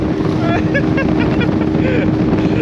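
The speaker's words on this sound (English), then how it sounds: "we took a metal boat going like 60 kilometers an hour" A metal motorboat's engine drones steadily at about 60 km/h on a river in Guyana, under heavy wind buffeting, with faint voices mixed into the constant roar.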